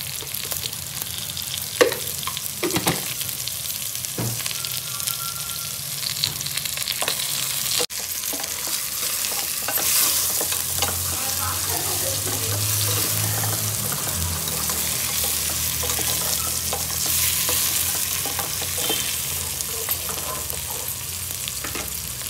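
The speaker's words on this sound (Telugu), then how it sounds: "ఇప్పుడు ఒక్క నిమిషం ఇది ఉప్పులో కొంచెం ఫ్రై అయితే ఉప్పు బాగా పట్టుకుంటుంది దానికి." Food frying in a pan with salt added, a continuous close sizzle with repeated scraping and stirring strokes throughout.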